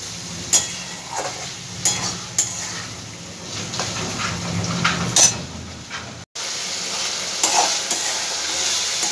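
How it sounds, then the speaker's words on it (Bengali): A spice paste with shelled green peas is fried and stirred hard in a pan for chhana kalia. A loud, close sizzle is punctuated by repeated scraping and clinking of a utensil against the pan, with a brief dropout near the end. "খুব ভালো করে মশলাটা এবার আমি কষাবো।"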